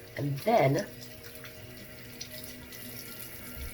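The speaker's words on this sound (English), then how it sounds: "Rinse that off my hands." Brief splash of running tap water over hands at a bathroom sink while rinsing off foamy cleanser, a short burst near the start, then only quiet room tone.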